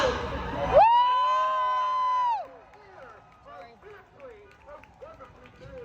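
A crowd cheers at an outdoor No Tyrants rally. A burst of noisy cheering gives way to a long, loud sustained whoop, then scattered yells and voices trail off.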